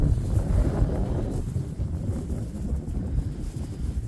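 Strong wind outdoors on a farm where saplings are being planted, a steady low roar buffeting the microphone throughout with small gust swells and no talk.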